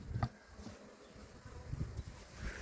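Honeybees hum and buzz at a full hive in August, a soft continuous drone with a few louder buzzes passing close by.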